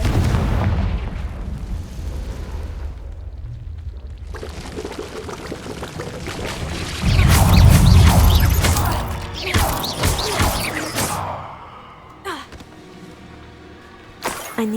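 Spell blasts and booming impacts from Confringo in the video game Hogwarts Legacy, with a loud burst around the middle followed by scattered crackling pops and a final sharp hit.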